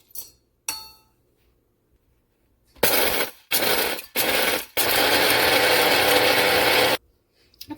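A SHARDOR electric coffee and spice grinder grinds coarse Himalayan salt in loud, harsh whirring bursts. A few short pulses lead into one long sustained grind, with a couple of faint clinks before it starts.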